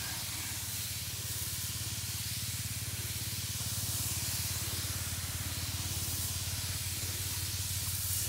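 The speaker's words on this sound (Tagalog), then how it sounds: "Pero insecticide muna itong spray natin." Insecticide sprayed onto bean plants in a rain-soaked garden, a steady close hiss from the sprayer running without a break for several seconds, loud and even, with a faint low hum underneath and no talking.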